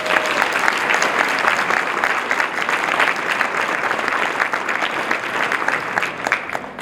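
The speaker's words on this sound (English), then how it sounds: "Please join me in giving our volunteers a round of applause." Steady applause from a sizable crowd at an awards celebration, dense overlapping claps that hold at an even level for the whole stretch with no talking.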